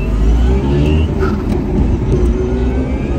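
Fiat X19 converted to electric drive rolling along, a steady loud road and motor whir with low rumble throughout, no engine revving, close and continuous.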